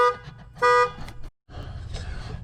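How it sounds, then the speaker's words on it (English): A car horn-like electronic tone blares in loud bursts, cutting out briefly before a steady rumble of street noise resumes. "car alarm went off"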